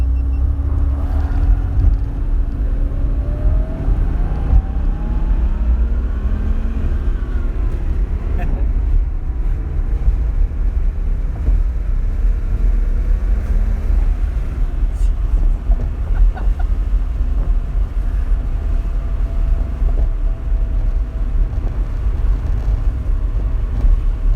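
Porsche 964 Turbo engine droning steadily while driving, a loud low rumble with shifting tones as revs change, heard from inside the car with talking throughout.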